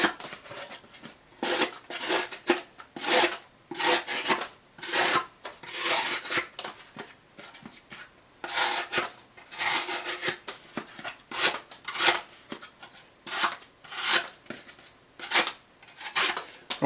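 A Kershaw Tilt knife with a Vanax75 steel blade slices through cardboard in a steady run of repeated rasping, scraping strokes, close and fairly loud, each cut a short burst followed by a brief pause, with no voices.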